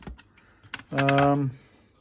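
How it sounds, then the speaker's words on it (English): A few sharp key clicks come from the keyboard of a Micron 1.0, a Russian ZX Spectrum clone computer. A short voiced tone follows, and the close, dry keystrokes occur in a quiet room. "let's check out the keyboard"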